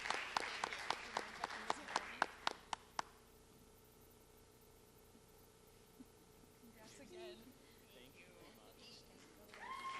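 A handful of sharp, evenly spaced claps closes out the applause at the Willmar Fests Ambassador Coronation, dying away after about three seconds into a quiet room where a voice briefly speaks.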